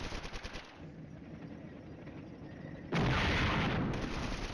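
Artillery and machine-gun fire from the wargame Flashpoint Campaigns: Red Storm, a steady rattle of distant gunfire and rumbling bursts that swells into a louder, denser barrage partway through.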